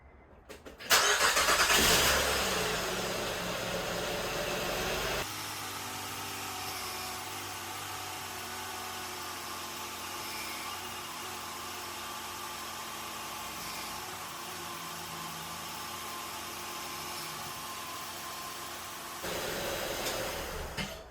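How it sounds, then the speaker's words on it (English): A Honda Pilot's engine cranks and catches with a loud burst, then settles into a steady, even idle that runs on for many seconds before revving slightly louder again near the end, with no talking. "now it's time to turn on the car and turn the steering wheel"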